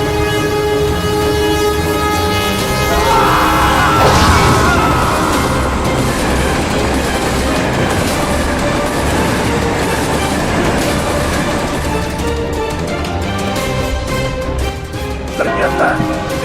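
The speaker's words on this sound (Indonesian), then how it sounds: "Ternyata, gempa bumi itu adalah kereta yang melintas di rel ini." A train rolls past on the rails nearby, a loud sustained rumble and rattle of wheels and cars that fills the whole stretch, with a faint squeal near the end.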